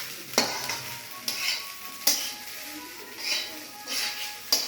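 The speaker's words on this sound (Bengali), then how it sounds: "কি রান্না হচ্ছে? Fried rice." Fried rice with chicken is stir-fried in a pan, with a steady sizzle broken by sharp scrapes of the spatula at irregular intervals, while people talk nearby.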